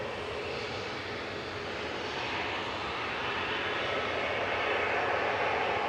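Jet airliner engines roar steadily at Manchester Airport, a broad continuous rumble that swells slightly louder toward the end, heard from a distance with no talking.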